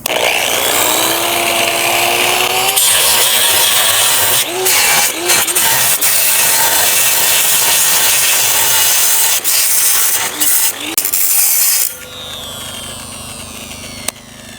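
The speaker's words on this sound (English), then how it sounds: "Man, that is a very old angle grinder." A very old angle grinder fitted with metal cutting discs cuts rebar, producing a loud, harsh, sustained grinding whine with brief interruptions that stops abruptly near the end, then a quieter tail as a person talks.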